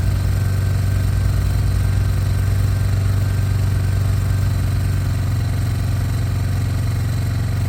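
A 2003 Yamaha Big Bear 4x4 ATV engine idles steadily up close, a continuous low throbbing rumble with an even pulse and no voices.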